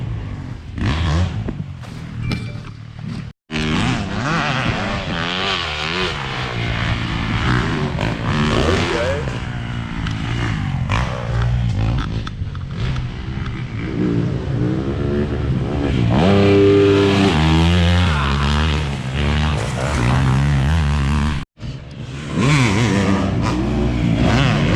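A 450 motorcycle rides nearby, its engine loud and revving up and down through gear changes, with two brief dropouts and a strained high-rev stretch near the end.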